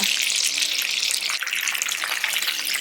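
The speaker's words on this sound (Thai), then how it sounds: "ก็ทอดให้สุกเหลืองดีทั้งสองด้านเลยนะคะ" Garlic pepper shrimp fry in hot oil until golden, giving a steady, loud, hissing sizzle that fills the whole stretch without a break and with no talking over it.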